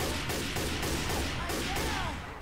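Rapid gunfire in Left 4 Dead 2, a dense run of loud, evenly spaced shots over about two seconds, with game noise underneath.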